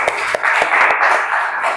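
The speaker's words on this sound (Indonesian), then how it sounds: "Silahkan duduk, beri aplaus." A classroom audience claps briefly after a group presentation, a short burst of rapid, close handclaps lasting under two seconds.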